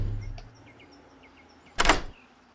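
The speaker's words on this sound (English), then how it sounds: "Tungsten door!" A tungsten door in the game 7 Days to Die opens with a short, loud mechanical whoosh about two seconds in, preceded by quiet game ambience with faint bird chirps.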